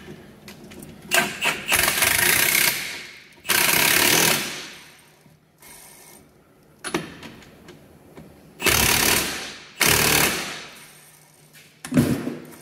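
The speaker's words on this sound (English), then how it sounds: "This impact wrench will get it to the 160 to 200." Impact wrench driving bolts on a Jeep Wrangler Rubicon Dana 44 differential, several loud hammering bursts of a second or two each with quiet pauses between, close up and without talking.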